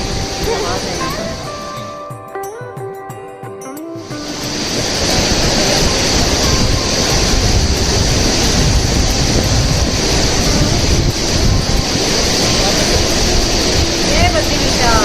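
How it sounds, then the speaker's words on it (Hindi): Rushing water of the Alaknanda river roars beneath a bridge near Badrinath, a loud, steady broadband wash that swells in after a brief quieter stretch and continues unbroken to the end. "बहुत तेज़ पानी का बहाव यहाँ पर होता है हमेशा, हम देखते हैं और आवाज़ भी सुन सकते हैं आप लोग, आवाज़ है यहाँ पर।"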